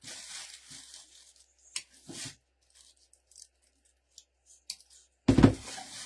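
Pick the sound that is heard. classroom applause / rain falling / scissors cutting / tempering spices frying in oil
scissors cutting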